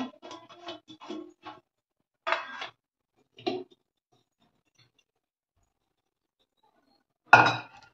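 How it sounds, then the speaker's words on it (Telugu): Cauliflower pieces are tipped into a kadai, giving scattered light patters and clinks in a quick cluster, then a few isolated knocks. A sharper clatter comes after a long silence. "దీన్ని ఈ కళాయిలోకి మార్చేసుకుని కలుపుకోవడానికి ఫ్రీగా ఉంటుందని ఈ కళాయిలు వేస్తున్నా"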